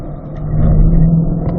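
A Chevrolet C8 Corvette on a track gives a loud, steady mid-range engine drone that builds slightly as it accelerates, heard from close by without talk.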